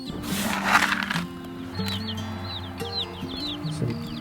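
Several chicks cheep in high, repeated chirps close by, over a low steady hum and some clucking from older birds.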